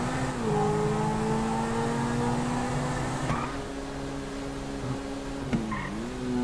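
A car from a video game drives around close by, its engine droning steadily with harmonic tones that dip and rise as it shifts and turns, with a brief tire squeal near the end.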